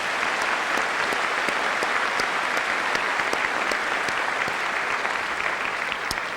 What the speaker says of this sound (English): another round of applause for what they've done up here